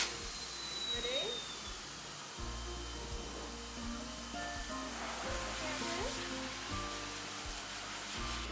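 A pet grooming dryer with its nozzle removed blows a steady, broadband airy roar over a Cockapoo named Bracken, continuous and fairly loud, with faint background voices and small shifts in tone.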